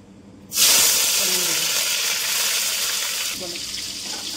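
Cumin, bay leaves, dried chillies and tomato hit hot oil with a sudden loud sizzle that settles into a steady, close hiss.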